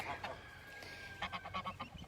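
A goose honks and hisses close by inside a chicken-wire farm pen, a short harsh burst of calls over faint background noise.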